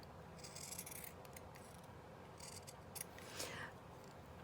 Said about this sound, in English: So I'm gonna just cut these up, cut them up.